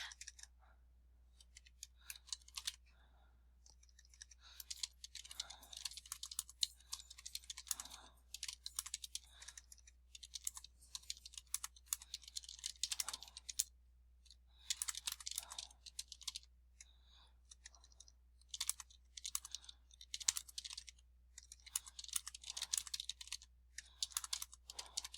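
Steady typing on a computer keyboard while writing an APA-format paper, with quick bursts of crisp close key clicks separated by brief pauses, alone over a faint low electrical hum.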